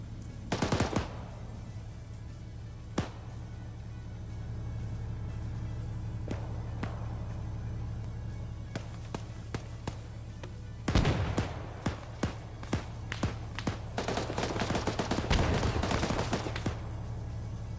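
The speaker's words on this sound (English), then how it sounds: "I was getting shot at by a guy over there." Enemy gunfire in a military video game: a close loud burst at the start, scattered single shots, then a dense rapid fusillade of cracks over a steady low engine-like hum.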